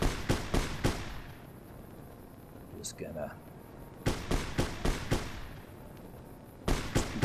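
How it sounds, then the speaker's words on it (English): Gunfire in Fallout New Vegas: clusters of sharp, cracking shots in rapid bursts, separated by quieter gaps, with a voice talking briefly in between. "Oops, here's some gunfire."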